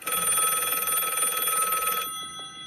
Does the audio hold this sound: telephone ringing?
yes